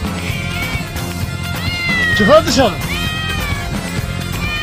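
A cat meows repeatedly in a funny mobile game montage, drawn-out wavering cries mixed with people talking loudly over music.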